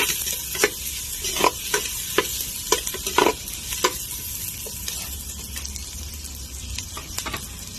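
Garlic sautéing in a pan for dinuguan, a soft steady sizzle broken by a series of sharp scraping clacks from a utensil stirring against the pan, no one speaking.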